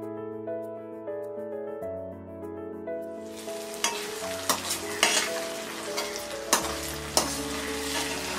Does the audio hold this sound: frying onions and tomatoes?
yes